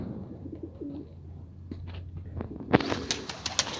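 Pigeons coo softly on a rooftop, low throaty calls close by, followed by a burst of rustling and fluttering wings toward the end.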